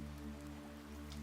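Rain falls in a GameMaker god-sim video game as a soft, steady patter, faint and unbroken for about a second, over a low humming drone.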